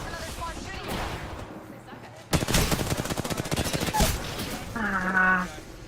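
Rapid automatic gunfire from another squad in the video game Apex Legends rattles in a dense burst of shots mixed with game sounds and a voice speaking.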